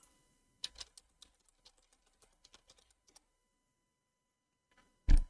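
Sparse keystrokes on a computer keyboard while entering a terminal command, with irregular close clicks spread over several seconds and a louder thump at the end.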